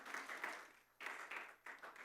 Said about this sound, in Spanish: Dale un aplauso a Dios por eso, hermano